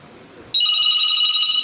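A home landline telephone bursts into a loud, steady electronic ring after a moment of quiet room noise, sounding close by and alone with no talking.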